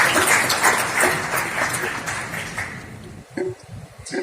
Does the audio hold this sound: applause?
yes